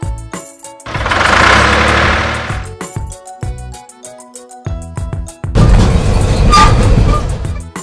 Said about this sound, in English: Red tractor.